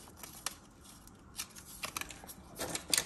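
Scissors cut and trim paper specimen cards, giving a few faint, irregular snips and rustles against a quiet background.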